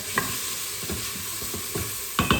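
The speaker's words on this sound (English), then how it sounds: "Let me give this a stir." A spoon stirs peppers, mushrooms and other ingredients of Thai chicken coconut soup in a pot in a quick cooker, giving soft irregular scrapes and knocks under a faint steady hiss, with a couple of louder clinks near the end.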